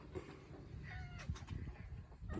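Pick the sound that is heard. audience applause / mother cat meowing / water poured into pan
mother cat meowing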